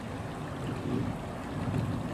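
Water bubbles and rushes steadily in a creek beside a dispersed campsite after rain, a continuous broadband wash with gentle swells and no voices.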